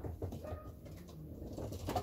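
Pigeons coo softly in a pigeon loft, low throaty murmurs overlapping in a quiet, close indoor space with faint rustling.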